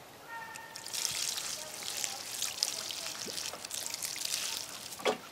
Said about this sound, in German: Dann gießen wir die Fußsohle. Und den linken Fuß.